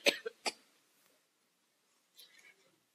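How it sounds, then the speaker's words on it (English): A couple of quick, soft coughs from a speaker at a commencement address, close to the listener, followed by silence and a faint breathy sound a moment later. "Give me a minute, I'm going to cough."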